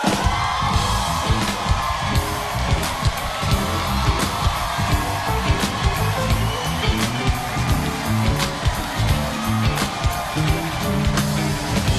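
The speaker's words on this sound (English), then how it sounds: "Women screaming with love for you, mommy." A studio audience at a television talk show, mostly women, screams, whoops and cheers continuously and loudly for a guest singer, a dense wall of yelling voices.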